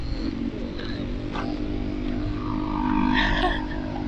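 A city bus drives through the centre of Riihimäki, Finland, its engine rumble rising and growing louder toward the end over steady street noise.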